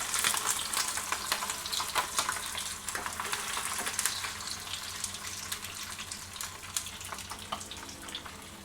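Pork belly set skin side down in a pan over very low heat, a soft continuous sizzle and crackle with scattered sharp pops throughout, quiet and close, with no voices.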